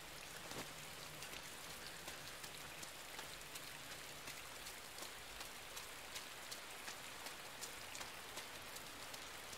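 Rain falling in the side-scrolling video game Inside, a steady soft patter of drops on surfaces with scattered sharper drips, low in level and unbroken, with no talking.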